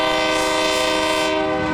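A freight or passenger train's horn blares loud and sustained, with rich layered tones held steadily for nearly two seconds, close by and alone without speech.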